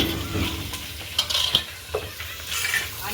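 Carrot pieces, peas, green chillies, tomato and onion stirred in a frying pan, a steady sizzle under repeated scraping strokes of a spoon against the pan, close and fairly loud.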